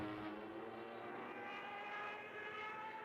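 A propeller airplane engine in a radio-style audio drama drones steadily and loudly, a sustained tonal hum with no voices over it.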